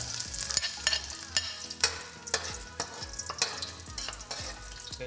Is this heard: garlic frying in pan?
yes